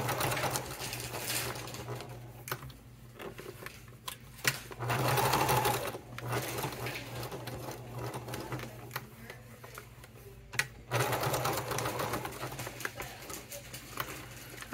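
A sewing machine stitches a fabric wallet in steady bursts of rapid mechanical whirring, with brief pauses between runs and one longer stop near the end.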